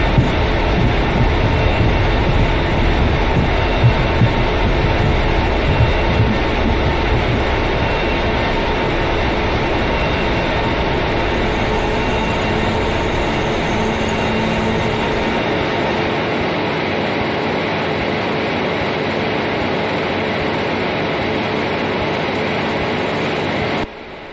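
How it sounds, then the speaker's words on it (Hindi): The Ratlam Intercity express with ICF coaches sits at a station in Microsoft Train Simulator, giving off a continuous loud low rumble and mechanical hum that fades a little toward the end before cutting off. "यह है रतलाम इंटरसिटी।"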